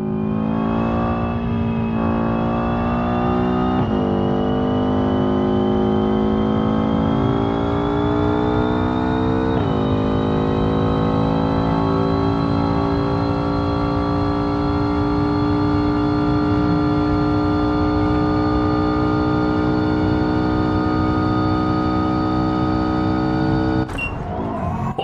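A racing video game car accelerates on nitro boost, a loud sustained engine whine that climbs in pitch through gear shifts, holding a high steady drone before cutting off near the end.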